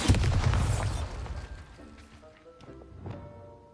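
A Bombarda blasting-spell explosion effect hits as a loud broadband boom at the start, then rumbles and decays over several seconds, with faint crackling bursts later.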